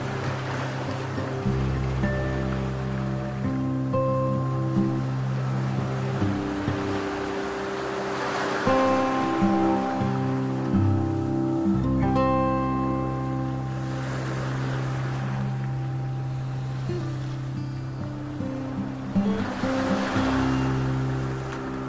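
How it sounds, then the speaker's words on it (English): Sea waves washing against sand dunes on the Kerry coast in Ireland, with slow surges swelling every few seconds beneath steady low humming tones. "The sound of the sea against the sand dunes."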